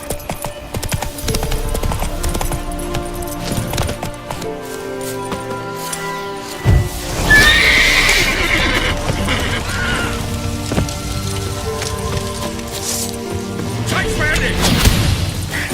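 In The Witcher 3: Wild Hunt, the horse Roach clip-clops and gallops with a neigh, its hoofbeats steady and fairly close beneath the game's musical score and ambient rumble.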